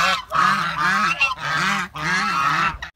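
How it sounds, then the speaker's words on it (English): Waterfowl call at a resort: three loud, near honks in quick succession, each one drawn out and nasal, with no voices over them. "there are swans and ducks over there"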